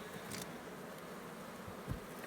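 Bees buzzing inside a frame beehive, partly clustered late in the season, a steady close-up hum with a brief low thump near the end and no talk.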